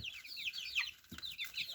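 Four-week-old chicks perched on a roost give soft, high, chirping clucks in short repeated bursts, faint and indoors, with no voices.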